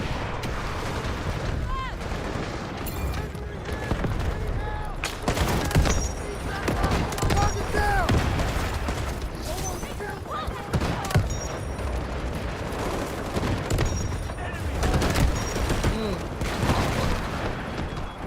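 Dense gunfire and explosions in the Delta Force video game, with rapid shots, booming blasts and overlapping bursts crowding the mix throughout, and a player talking over the battle at times.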